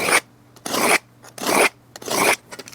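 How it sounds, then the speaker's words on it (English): A utility knife scores across a board in four firm, rasping strokes, each about half a second long with short pauses between them, close and loud with no voices. "grab a utility knife and just run it across the board"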